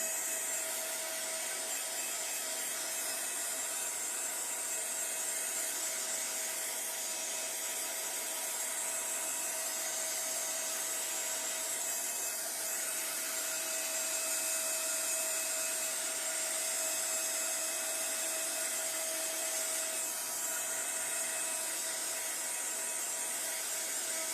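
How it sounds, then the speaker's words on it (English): Hair dryer blowing steadily to dry paint on thick art-journal pages, a continuous close whirring hum that runs unbroken for the whole stretch. "Drying again, sorry."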